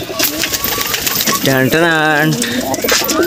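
Pigeons cooing close by in a loft or coop, a soft warbling coo rising clearly in the middle while a person talks nearby and other faint bird sounds mix in.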